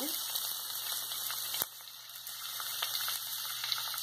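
Chopped onion sizzles in hot oil in a pan while cooking chapati upma, a steady quiet hiss and crackle close by.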